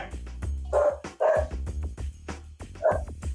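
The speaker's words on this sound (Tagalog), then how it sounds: "galit-galit yung aso mo dyan ah" Dog barking angrily in several sharp, loud bursts with short gaps between them, close by and alone with no talk.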